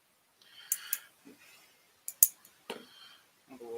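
Small sharp scissors snip thread at a fly-tying bench during a classic Jock Scott salmon fly tie, a few crisp close clicks and cuts spaced apart in a quiet room.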